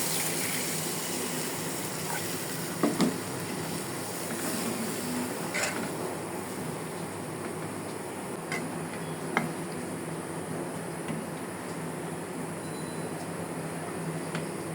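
Water added to fried spices in a pan for a boal fish curry, giving a continuous moderate sizzle and bubbling hiss with a few brief clinks and taps.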